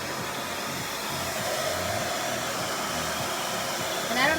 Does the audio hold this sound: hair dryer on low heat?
yes